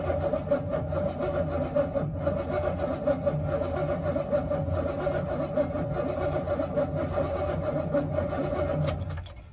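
A car's starter cranks the engine with the car in park; the starter had been underwater in a flood. The mechanical churn runs continuously and loud for about nine seconds, then cuts off.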